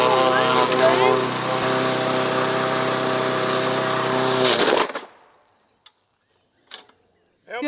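A lawn mower engine drones loudly with a steady harmonic whine for several seconds, then cuts off abruptly, leaving near silence broken by a few faint clicks.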